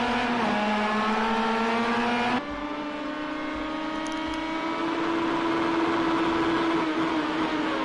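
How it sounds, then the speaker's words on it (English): Loud racing car engines screaming at high revs in a racing video game on the Nürburgring circuit, a sustained whining drone with a sudden gear shift partway through, close and continuous. "You can hear those cars maxing out down some of those straights."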